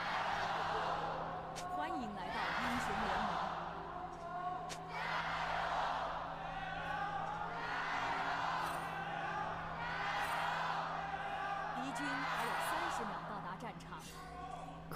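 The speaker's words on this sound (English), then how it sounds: "Crowd is loud." Esports arena crowd cheering at an LPL League of Legends finals, waves of whoops and yells rising and falling across the clip, heard somewhat distant and muffled under a steady hum.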